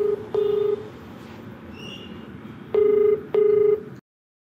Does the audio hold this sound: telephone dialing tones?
yes